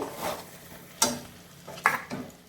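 Spices cook in oil in a pan while being stirred for palak paneer, with a soft, steady sizzle broken by two sharp scrapes of the spoon against the pan and a few lighter stirring strokes.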